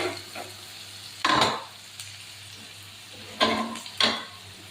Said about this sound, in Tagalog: Ang sibuyas bawang, madali lang naman ito maluto.